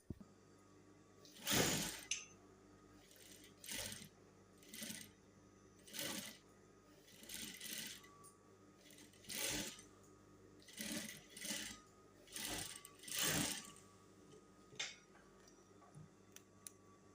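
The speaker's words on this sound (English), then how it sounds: "So I'm going to the sewing machine now to also sew this part." A sewing machine stitches trouser fabric in a series of short, separate bursts roughly a second apart, each a brief rattling run, quiet and close with no talking.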